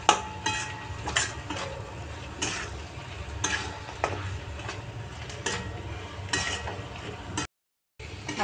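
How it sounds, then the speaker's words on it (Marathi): Crushed peanuts frying in a pan with masala for idli fry, a steady soft sizzle under repeated scraping and stirring clinks of a spoon against the pan, ending in a brief silence. "शेंगदाण्याचा कूट फ्राय करून घ्यायचं चांगलं"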